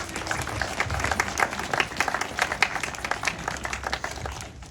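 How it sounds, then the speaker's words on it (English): Guests at a contemporary photography prize exhibition launch give a round of applause, the clapping fairly faint and distant over a low room rumble, continuing steadily throughout. "that deserves a round of applause"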